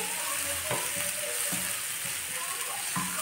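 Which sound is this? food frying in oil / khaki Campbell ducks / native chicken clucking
food frying in oil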